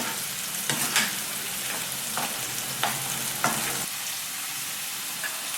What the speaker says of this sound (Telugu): వీటిని వేగే వరకు కాస్త కలియబెడుతూ ఉండాలి బిర్యానీ కోసం